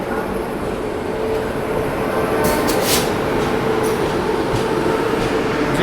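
The New Delhi–Howrah Purva Express crosses close by as a continuous loud rumble of passing wagons with faint wheel clatter, steady throughout and without speech.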